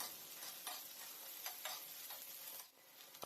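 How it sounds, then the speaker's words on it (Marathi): Two large chopped onions sauté in oil in a flat pan, giving a faint, steady sizzle with a few soft stirring scrapes and no talking. "आता इकडे तव्यामध्ये मी तेल घेतलं आहे आणि दोन मोठे हुबे का कापलेले कांदे घेतले कांदे आपल्याला परतून घ्यायचे आहेत"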